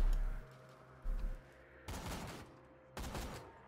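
Bursts of gunfire from the video game Borderlands 2: three loud volleys of rapid shots, near and punchy, separated by brief lulls with a steady background hum.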